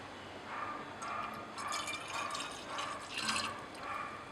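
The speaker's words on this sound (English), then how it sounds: "So we poured it into a separating funnel." Liquid filtrate poured into a glass separating funnel in a chemistry lab, a soft trickling and splashing that pulses in several short bursts, faint and close, with no talking.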